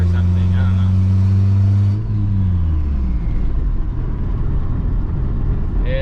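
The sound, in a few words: turbo Honda Civic exhaust rattling while driving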